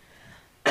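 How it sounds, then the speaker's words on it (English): A single short cough bursts out abruptly at the very end after quiet background hum, close and fairly loud. "You have a cough?"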